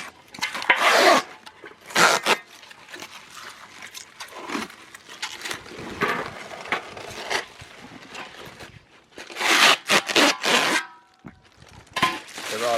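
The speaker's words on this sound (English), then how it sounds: "take off the protective plastic, which was quite satisfying" Protective plastic film is peeled and crackled off the metal panels of a raised garden bed, coming in bursts of loud rustling and crinkling separated by brief quiet pauses.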